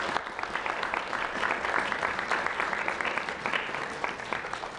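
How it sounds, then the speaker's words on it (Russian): An audience applauds relatives at a centenary celebration for Zosima Vasilyevich Panev, steady clapping filling the room evenly and without a break. "Давайте поприветствуем всех присутствующих родственников Зосимы Васильевича аплодисментами."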